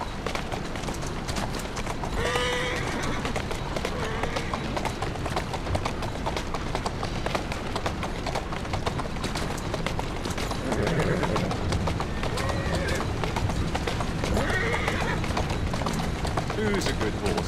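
A horse in the video game Assassin's Creed Syndicate clip-clops along a street at a steady trot, with brief whinnies and overlapping game voices and rattling mechanical noise in the background.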